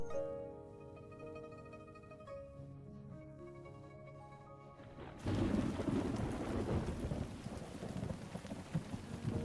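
Rain and a thunderstorm surge in halfway through, a dense roar of rainfall with rumbling thunder, after a quieter opening where sustained musical tones play.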